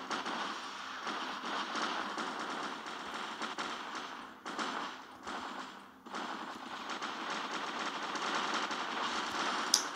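Robot machine gun fire in the video game War Robots, a dense, continuous rattling burst that runs almost the whole time, with a couple of short dips in the middle, over busy game background noise.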